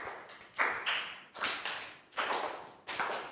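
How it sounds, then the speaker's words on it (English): Children clapping their hands together during a health lesson: repeated crisp, fairly quiet bursts of clapping in a steady rhythm, with no talking. "Teacher says, clapping."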